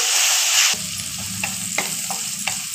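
Sliced onions with salt frying in a pan, opening with a loud bright sizzle as they hit the oil, then a quieter steady crackle with a few spatula taps.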